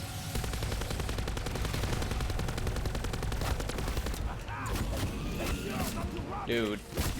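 Rapid automatic gunfire from Black Ops 4 Zombies rattles steadily for several seconds, then gives way to scattered shots and game effects, with a player talking over the action.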